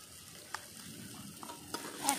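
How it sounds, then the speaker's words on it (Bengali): Ginger, green chili and garlic paste frying with browned onions in a pan for chicken curry, giving a faint, steady sizzle with a few soft stirring knocks. "এক এক করে সব মশলা আমি দিয়ে দেব আদা বাটা কাঁচা লঙ্কা বাটা"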